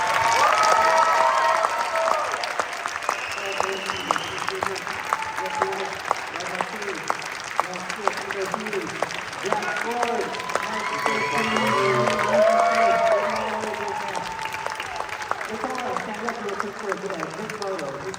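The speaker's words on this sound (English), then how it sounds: "give them all a big clap." An audience at a 40th anniversary event for A Nightmare on Elm Street breaks into sustained applause with scattered cheers, while a voice carries over the clapping as it gradually thins out.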